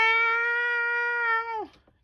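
A cat gives one long, steady, fairly loud meow that holds its pitch and then drops off abruptly at the end, close by with no talk.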